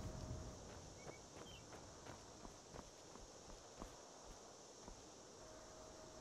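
A horse walks in a video game, its hooves landing in a steady, evenly spaced clip-clop that stays faint and fairly close against quiet wind and rustle, with no talking.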